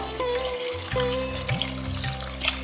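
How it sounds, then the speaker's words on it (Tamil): Water pours from a vessel into a pot of lentils and chopped potatoes while cooking kadappa, a steady splashing trickle heard up close with no talking. "இதுக்கு நம்ம இப்போ தண்ணி ஊற்ற போகிறோம்."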